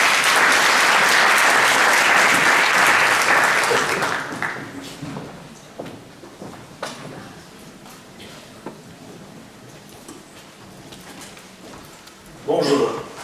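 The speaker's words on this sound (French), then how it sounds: "Applaudissements." Audience applause fills a European regional development conference hall, loud and dense for about four seconds, then thinning to scattered claps before a brief final burst.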